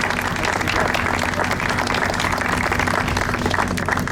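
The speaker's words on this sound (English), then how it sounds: "So let's give a round of applause to the United Way of Genesee County." Steady, dense applause from a large crowd at a golf tournament event, continuous and loud throughout with no pauses.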